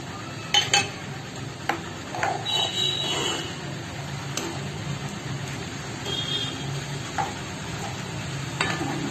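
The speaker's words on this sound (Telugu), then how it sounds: "ఇప్పుడు బాగా మరిగి నూనె అంతా పైకి వచ్చేసింది" Fish curry bubbling in oil in a pot on the stove, a steady low simmering sizzle with occasional soft pops and faint utensil clinks, no talking.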